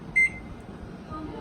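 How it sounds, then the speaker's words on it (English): A microwave oven gives one short, clear electronic beep as it is started, followed by a faint, steady hum in a quiet kitchen. "So now I'm taking microwave mode."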